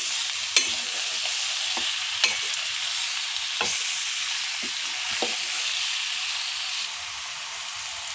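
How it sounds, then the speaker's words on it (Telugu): Chicken for a masala chicken fry is stirred in a pan on high flame, giving a continuous frying sizzle with several sharp spatula scrapes and knocks up close. "చికెన్ వేసుకున్న తర్వాత హై ఫ్లేమ్లో పెట్టుకొని ఇలా కలుపుకోవాలి"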